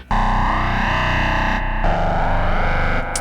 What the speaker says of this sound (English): you can activate the wave envelope. So over the time, the wavetable will be scanned